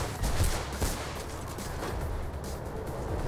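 Gunfire in Mirror's Edge, a few sharp shots and bursts over a dense, noisy game backdrop, loud and close.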